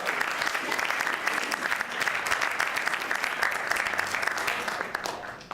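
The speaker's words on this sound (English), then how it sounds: "Let's give a big round of applause for both of them." An audience at a college elevator pitch competition gives a big round of applause, with dense, steady clapping from a crowd that stays loud throughout and eases off slightly at the very end.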